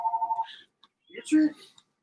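A telephone rings in the background with a brief warbling burst of ringing, then people talk over the rest of the moment.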